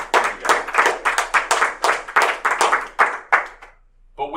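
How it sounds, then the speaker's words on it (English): A small audience claps at an atheist organization's speaker event, a few dozen hands in uneven close bursts that fade out near the end before a brief new sound. "give them a big round of applause for that"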